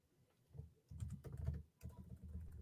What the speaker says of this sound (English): I'm just going to type in T. Higgins hair into Twitter.